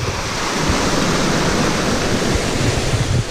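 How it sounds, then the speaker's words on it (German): A waterfall fed by an irrigation channel pours down through forest in Valais, Switzerland, a loud, continuous broadband rush that stays steady and close throughout, with no voices. "Da kommt ein Wasserfall einfach durch den Wald runter"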